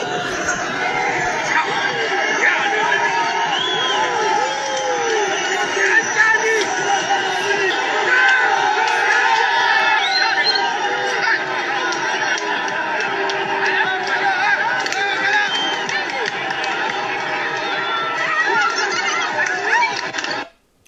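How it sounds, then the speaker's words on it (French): A dense crowd of townspeople cheers for Nigerien soldiers advancing toward Gaya near the Benin border. The mass of overlapping voices, shouts and whoops stays loud and continuous throughout, then cuts off abruptly at the end. "Et ils sont applaudis par la population"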